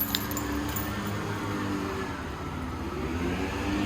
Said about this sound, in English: let's get a little before of how the car sounds